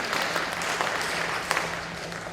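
Church congregation applauding during a Korean worship service, a full room of hands clapping steadily with some louder individual claps, a low hum underneath and no talking.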